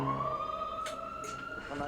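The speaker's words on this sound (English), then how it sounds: "Sirens." Sirens wail in the 1946 film The Flying Serpent, a steady rising tone with faint voices speaking over it.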